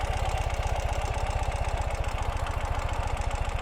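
A 2018 Ural Gear Up motorcycle engine idles steadily up close outdoors, its low, rapid, even putter continuing without change and with no voices.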